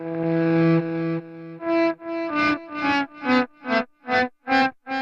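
Electric guitar volume swells with a grainy, slightly distorted clean tone from the Jam Up Pro app, one sustained chord then a steady series of rhythmic swelling notes, close and alone with echo and chorus shimmer.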